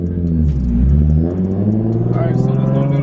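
A Nissan 350Z fitted with a turbo whistle accelerates on a street, giving a loud, close, steady engine drone whose pitch climbs gradually through the pull.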